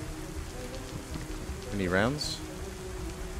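Steady rain falling in the DayZ survival game, a constant hiss running through the whole stretch while a voice speaks briefly over it.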